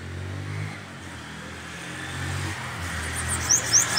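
Cars and motorbikes pass by on a nearby street, a steady traffic rumble with engines swelling and fading, plus a few high chirps near the end.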